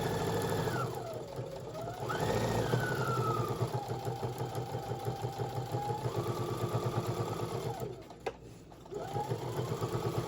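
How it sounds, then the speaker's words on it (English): A sewing machine stitches fabric cosmetic pouches steadily, its rapid mechanical whir rising and falling in pitch as speed changes, pausing briefly near the end before resuming. "let's get to the sewing machine"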